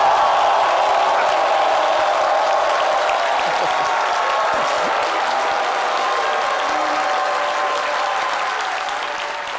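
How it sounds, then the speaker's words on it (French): A warm university audience at the Université du Maghreb applauds steadily and loudly, a dense wash of clapping that eases slightly toward the end with faint voices underneath. "les applaudissements de ce chaleureux public dans l'Université du Maghreb"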